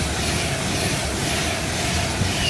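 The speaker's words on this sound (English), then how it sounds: "Now about to pass through platform 2 at Cheddington is..." Train 39135 passes through platform 2 at Cheddington station as a loud, continuous broadband rumble and rush with no distinct breaks.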